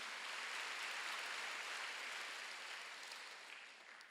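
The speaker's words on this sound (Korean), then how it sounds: "박수." A church congregation at a Wednesday service claps together in dense, even applause that holds steady for a few seconds and then gently tapers off, with no talking over it.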